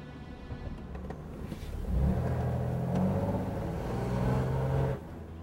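A car engine rumbles nearby, then swells into a louder acceleration with rising whir before settling and dropping off at the end.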